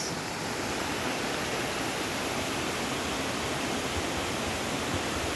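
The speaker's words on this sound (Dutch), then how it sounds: "Maar je hoort overal al water." Broad, steady rush of falling water from a waterfall in the Los Tilos forest on La Palma, a constant full-band roar with no breaks, close and fairly loud.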